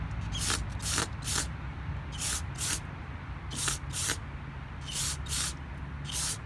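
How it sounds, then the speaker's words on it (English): Short bursts of aerosol parts cleaner and degreaser sprayed into a variable valve timing engine part, about eight hissing blasts in quick pairs, close and loud over a steady low hum. "I have a parts cleaner and degreaser, so I'm gonna be spraying some in here."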